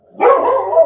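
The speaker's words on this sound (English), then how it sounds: "Sorry, that's my dog." A pet dog in a home barks and yips close to the microphone in a short, loud burst that carries on for under a second, with a low steady hum of traffic beneath it.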